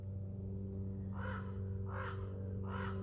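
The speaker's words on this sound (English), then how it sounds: "There's a crow." A crow caws three times at a steady rhythm, each call harsh and moderately near, over a constant low mechanical hum in the background.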